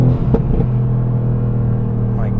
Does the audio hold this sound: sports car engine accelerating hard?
yes